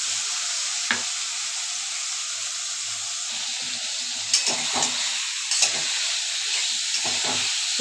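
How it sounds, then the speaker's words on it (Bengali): A turmeric, chilli and cumin paste with a splash of spiced water sautés in a pan, giving a steady soft hiss and sizzle broken by a few sharp stirring scrapes and clicks. "একটু ভালো করে কষিয়ে নেব"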